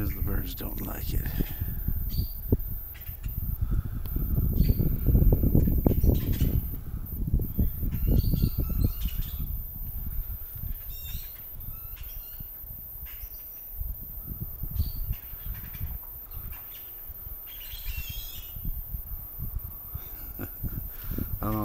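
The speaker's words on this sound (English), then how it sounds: "the way they're squawking away. Doesn't sound like their normal squawking." Birds squawk and chirp in an unusual, agitated way outdoors, fairly distant and intermittent over rustling and low rumbling background noise, with a person talking at times.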